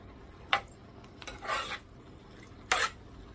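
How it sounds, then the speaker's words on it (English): Smothered corn, tomatoes and sausage being stirred in a pan, with a few short scraping clinks of a utensil against the metal and a couple of longer rasping strokes, close and moderately loud, no talking. "And now I'm going to add my sausage back to the bowl, not the bowl, the pan. And I'm just going to give this a good stir."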